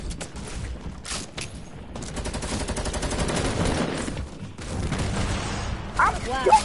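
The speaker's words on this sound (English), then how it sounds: "This is one of the best shotguns in the game." A double-barrel shotgun fires in a video game, heavy booming shots mixed with surrounding gunfire and game noise, while players talk excitedly over it.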